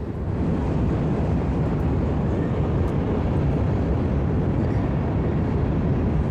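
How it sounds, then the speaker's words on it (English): A train passes somewhere in the background near a river, heard from a rooftop solar observatory as a steady, dense, unbroken rumble that fills the whole stretch without rising or fading. "You can sort of hear the train going in the background"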